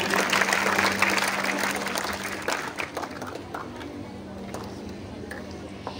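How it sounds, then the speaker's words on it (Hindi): Audience applause at a Hindi poetry recital, a burst of many hands clapping that gradually thins and fades out. "आप लोगों से आग्रह है मेरा कि जोरदार तालियों से स्वागत करें"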